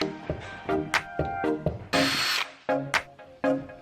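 A power drill unscrews fasteners from trim on an RV roof during a Toyota RV remodel, with a run of short, loud whirring bursts and brief pauses between screws.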